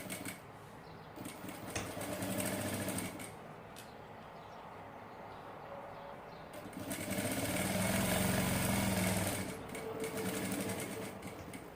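A sewing machine stitching the lining of a glasses case runs in steady rapid bursts, its motor whirring and needle chattering, pausing briefly between two longer runs, fairly close and alone.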